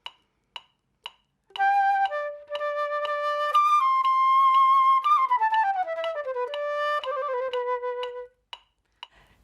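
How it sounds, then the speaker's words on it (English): Sharp metronome clicks tick at a steady, even crotchet pulse, continuing alone before and after a short melodic phrase played over them. "I'm going to play a short little phrase with the metronome, firstly on the crotchet pulse."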